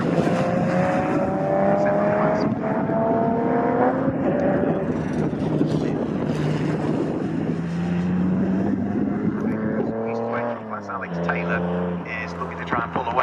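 TVR and BMW race cars roar around the Snetterton circuit in a CSCC Modern Classics race, engines whining and shifting pitch as they pass, with a commentator talking over the noise throughout.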